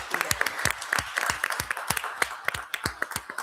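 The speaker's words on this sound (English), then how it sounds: "Let's give them a round of applause." Audience applause at a city council meeting, with many people clapping in a moderate, steady patter, several sharper individual claps standing out nearby, and no speech over it for several seconds.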